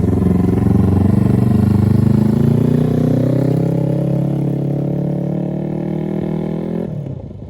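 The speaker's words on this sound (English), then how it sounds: "So now the bike is ready for a test ride." A modified motorcycle's engine roars loudly and steadily on a test ride, its pitch climbing slowly as it pulls away and then dropping off at the end.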